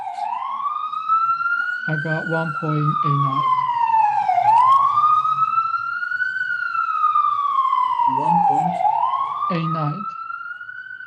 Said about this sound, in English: Sorry for this background noise. It's ambulance.